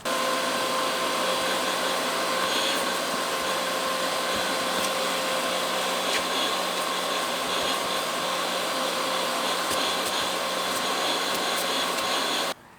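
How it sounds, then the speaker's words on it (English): A vacuum cleaner sucks up small debris inside a 4th-generation Pontiac Firebird during a power seat repair, a loud, steady motor whine with a constant airflow roar, running alone until it cuts off at the very end. "I'm gonna vacuum up all this little stuff"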